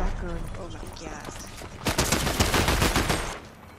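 Shotgun fire in the video game Fortnite comes as a quick string of sharp, loud blasts packed close together, with voices talking over the start.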